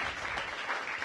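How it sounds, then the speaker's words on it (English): Applause at a swearing-in ceremony, a brief dense wash of many hands clapping from a seated crowd, steady and fairly loud with no gaps. "Give them a round of applause."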